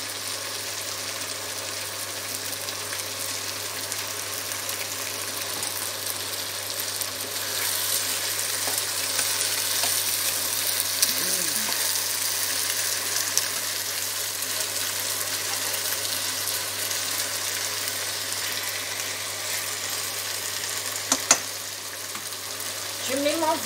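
Whole peeled potatoes frying in a pan alongside kidneys, a steady close sizzle running throughout with faint stirring and brief utensil knocks.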